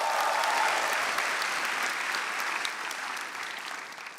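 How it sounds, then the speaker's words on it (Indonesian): Audience applause at a stand-up comedy show, a dense clapping crowd starting loud and slowly fading over several seconds, with no talk on top. "Tepuk tangan untuk 5 besar."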